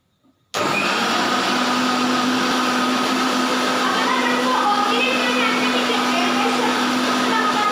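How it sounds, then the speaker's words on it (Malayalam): A kitchen mixer grinder runs continuously blending a papaya shake, a loud steady whirring whine that starts abruptly after a brief silence and holds without pause. "ഒന്നുകൂടെ ഒന്ന് മിക്സിയിൽ അടിച്ചെടുക്കാം നമുക്ക് നന്നായിട്ട്"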